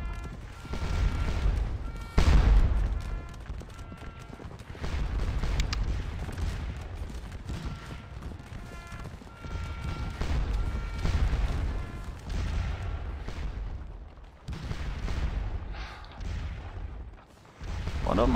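Massed artillery in Scourge of War: Waterloo booms repeatedly across a Napoleonic battlefield, with heavy cannon reports and crackling volleys layered into a continuous rolling barrage, at times with a voice speaking.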